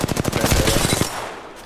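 Gunfire in the video game Apex Legends: a rapid burst of about a dozen loud, close shots in steady rhythm, then a short fading tail.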